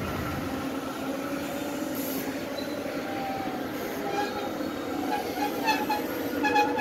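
A California Zephyr passenger train moving along, a steady moderate rumble of rolling cars with faint rail clicks and squeals, heard at a distance without speech.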